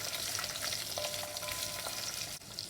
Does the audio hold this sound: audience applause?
no